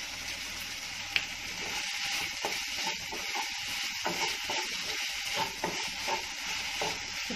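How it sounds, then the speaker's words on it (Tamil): Tomatoes with dried red chillies and salt sauté in a pan, giving a steady close hiss and sizzle with occasional soft stirring scrapes and one sharp clink. "இப்ப தக்காளி கொஞ்சம் வதங்கிருச்சு"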